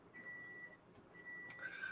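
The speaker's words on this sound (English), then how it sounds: "there goes the beeping of the washing machine" Two faint electronic beeps sound from a washing machine, each a sustained tone, the second followed by a brief higher chirp.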